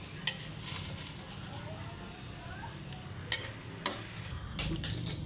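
Liver and garlic sauté in a pan for pancit, giving a faint, soft sizzle broken by a few sharp utensil knocks and scrapes against the pan.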